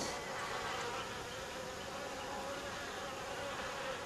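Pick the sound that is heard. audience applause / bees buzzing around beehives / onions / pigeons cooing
bees buzzing around beehives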